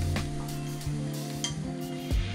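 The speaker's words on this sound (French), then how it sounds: "Faire revenir 1 à 2 minutes les juliennes de carottes avec un peu de sel" Julienned carrot strips sautéing with a little salt in a spoonful of oil in a pan, a soft steady sizzle under a few light utensil stirs and clinks.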